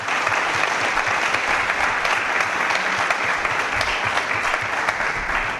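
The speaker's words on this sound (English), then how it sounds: "let's have a round of applause for these 7 former mayors." Council meeting audience applauding seven former mayors, steady dense clapping that fills the room evenly from start to finish with no voices on top.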